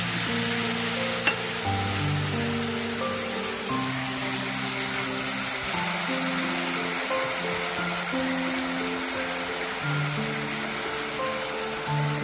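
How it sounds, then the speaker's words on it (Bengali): Ginger, cashew and tomato paste hitting a pan of frying masala for paneer pasanda: a steady, even sizzle hisses throughout beneath sustained background music. "এবার এর মধ্যে আমি আদা, কাজু বাটা আর টমেটো বাটা দুটোই একসাথে দিয়ে দিই"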